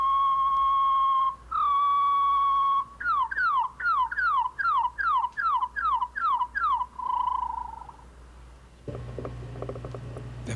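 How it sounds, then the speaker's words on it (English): Song of a sparrow from a different regional dialect, slowed down: a sustained whistled note, a second held note, then a fast run of repeated downward-sliding notes and a trailing tone, clear and alone before a brief noisy burst at the end. "Here's the song of a sparrow from another area."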